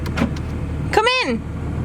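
A car's electric window motor whines briefly as the glass rolls down, a short rising-and-falling mechanical tone close by, with people talking around it.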